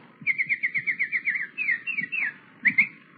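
A person whistles an imitation of a nightingale call, a rapid run of about ten bright repeated chirps followed by a few sliding notes and a final double chirp, fairly close and alone.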